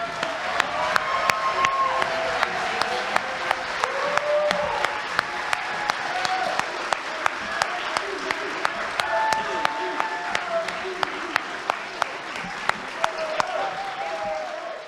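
Audience applause at a congressional district candidates' forum, thanking candidates Doris Matsui and Mai Vang; steady, sustained clapping from a crowd with brief murmurs throughout, fairly loud and continuous.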